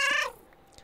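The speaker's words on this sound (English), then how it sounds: "Thank you for the cat meow in my ear." A single short cat meow plays as a sound alert on a livestream, a clear, bright, tonal cry that falls off quickly into near silence.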